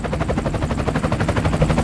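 A helicopter's rotor beats in a fast, loud, continuous thudding pulse close by, filling the whole stretch with no voices.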